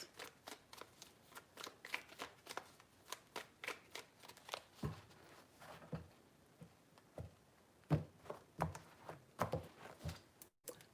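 Tarot cards are shuffled by hand in a quiet room, with soft, quick riffling bursts and crisp snaps recurring in uneven clusters, close and faint with no talk.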